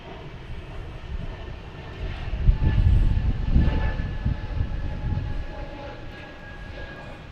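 An American Airlines Airbus A319, flight 1158 from Philadelphia, landing at Boston Logan: a broad jet engine rumble that swells to a peak midway and then eases off, with no one talking.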